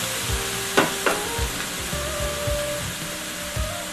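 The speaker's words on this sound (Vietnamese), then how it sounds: "mình có cái chảo dầu nóng, mình có nửa chén gừng với lại tỏi, gừng mình cắt sợi với lại tỏi mình bầm nhuyễn bỏ vô đây" Shredded ginger and minced garlic frying in a pan of hot oil, a loud close sizzle with several sharp scrapes and knocks of a utensil stirring, no speech.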